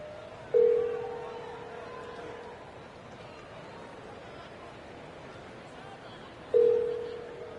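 A phone rings with two brief electronic tones about six seconds apart, sounding over a noisy background of voices and chatter.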